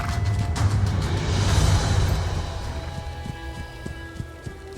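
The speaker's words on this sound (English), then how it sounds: "the Mongol horse to travel at a steady speed for long periods of time" Mongol horse hooves at a steady running gait in an Age of Empires IV cutscene: a rumbling gallop fades into sparse, distinct hoof thuds with a faint ambient drone, no voices.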